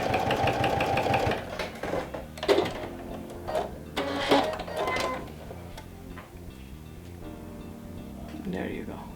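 A domestic sewing machine with a roller foot stitches through two layers of vinyl in a steady mechanical whir with rhythmic needle ticking. A voice talks over it.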